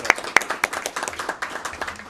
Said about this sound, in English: I feel like that deserves a little round of applause.